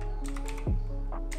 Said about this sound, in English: If you don't have it, just type sudo apt